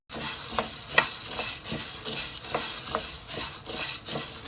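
Ingredients roast in a pan while being stirred constantly, with soft repeated scraping strokes over a quiet sizzle, close and without speech.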